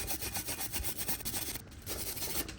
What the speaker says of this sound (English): just to take a wire brush and kind of clean any rust out of that